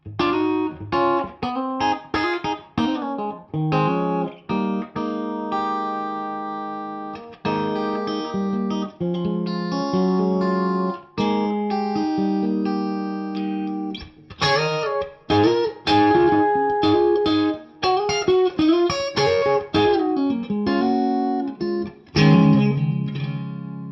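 Electric guitar played through a PRS DGT 15 amplifier with the bright switch on, a bright, crisp tone, a mix of strummed chords and picked notes in in-between pickup positions with short pauses between phrases.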